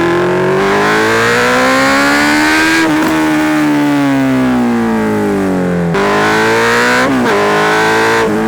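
A Honda CB 650F motorcycle, ridden on the road, has a loud, close engine that climbs in pitch through the gears, with sharp drops at the shifts and a howling, strained tone under acceleration.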